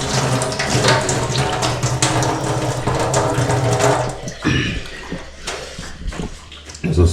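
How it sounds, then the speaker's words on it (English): Tap water runs in a Kenyan village in Shikhambi, Kakamega, as a loud, steady rushing gush that breaks off partway and then returns in uneven splashes. "There's water here, plenty. You can just drink direct"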